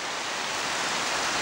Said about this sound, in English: there's a river behind me